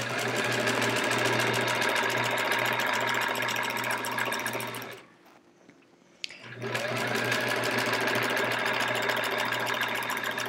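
A sewing machine stitches a border on a sampler quilt, a loud, close, rapid mechanical chatter that pauses briefly midway and then resumes at the same steady pace.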